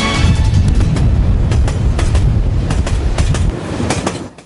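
A train on the Mannar railway line rolls past on its rails, a loud continuous rumble with rhythmic clickety-clack wheel beats that gradually eases toward the end.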